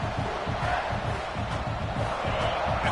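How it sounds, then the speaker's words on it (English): Football stadium crowd at a South Carolina versus Florida game roaring steadily in a dense, sustained wall of noise to spur the defense, with no breaks across the stretch. "And this crowd coming to life here, trying to help the defense get a stop."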